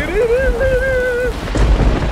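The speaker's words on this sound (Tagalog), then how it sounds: "Bumuhos ang napakalakas na ulan." Very heavy rain pours on a campervan in a storm, a loud, close, steady wash of downpour under a wavering high tone, with a heavier burst of noise near the end.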